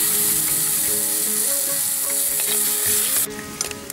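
Kerala-style kadala curry gravy sizzling and being stirred in a pan, a loud, close, continuous crackle that drops abruptly near the end.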